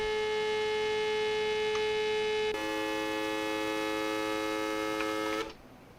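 A car engine in a car-building video game holds at 12,000 RPM, a steady, buzzy high-pitched whine that drops a notch midway and cuts off abruptly near the end.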